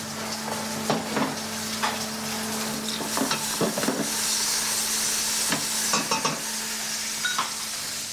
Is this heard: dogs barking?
no